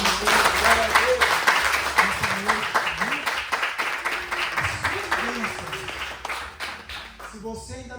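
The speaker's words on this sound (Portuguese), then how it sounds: "Se você entendeu a mensagem, dê uma salva de palmas para Jesus" Church congregation claps for Jesus after a sermon, a sustained round of applause that slowly fades, with voices calling out and talking over it.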